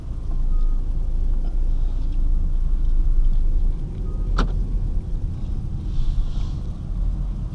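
A 2013 Ford Escape Titanium pulls out and drives off, a steady low engine and road rumble heard from inside the car, with a brief clicking tone partway through.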